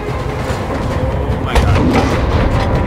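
A heavy, booming tank cannon blast in Battlefield V lands about midway, a deep thud over a constant rumbling engine and battle noise, with voices talking throughout.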